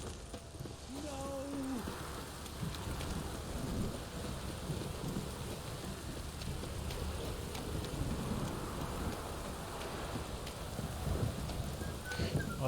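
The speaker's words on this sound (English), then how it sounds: "This downpour's a bastard." Heavy rain pours steadily across a stormy scene in The Witcher 3, with low thunder rumbling beneath the constant hiss and a brief tonal sound early on.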